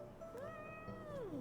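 A single cat gives one clear, drawn-out meow with a rising then falling pitch, close and quiet, with nothing else around it.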